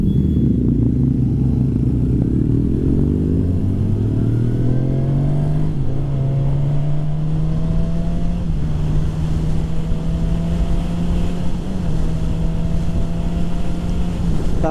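A 2021 Suzuki Katana 1000 motorcycle ridden on the road, its engine droning loud and steady as the revs climb through the gears and then settle into a constant cruising hum, with wind rush throughout and no talk.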